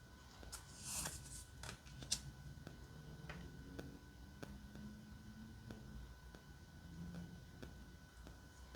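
Oracle card deck from US Games Systems being shuffled by hand, soft close riffles and flicks of cardstock in quick bursts with sharper snaps between them, quiet and with no talking.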